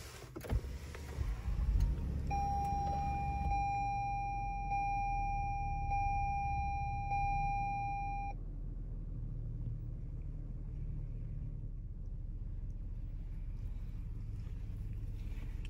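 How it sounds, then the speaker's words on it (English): A 2021 Lexus RX350 starts with a brief burst of cranking, then settles into a quiet, smooth idle rumble, while a steady electronic chime beeps repeatedly for several seconds before stopping. "Let's go ahead and start the vehicle."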